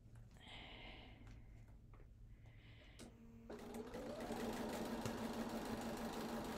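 A sewing machine stitches quilt fabric for a cathedral window block, with a quiet, steady motor hum that swells in the second half as the stitching speeds up. No one speaks.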